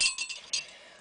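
Glass clinks in a candle-making setup, a few bright close taps in quick succession fading to quiet.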